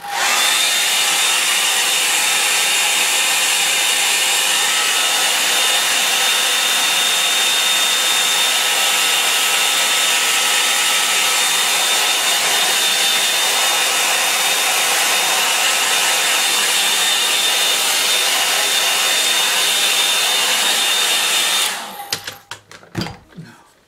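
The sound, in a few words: hair dryer drying artwork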